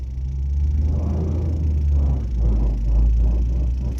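A deep, loud rumble of truck tires rolling on the road while turning, with a rhythmic pulsing throb that builds toward the end, no voices.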